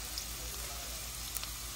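Mustard seeds, cumin, urad dal, chana dal, curry leaves and a pinch of asafoetida sizzle in hot oil for a potato fry, a steady, dense crackling hiss with faint pops and no voices.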